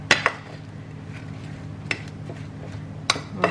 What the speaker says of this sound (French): Je vais un petit peu touiller pour que ça se mélange bien